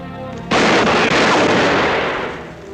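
Gunfire from a classic western film trailer: one loud, sharp blast cracks out and rolls into a long, booming echo that slowly fades.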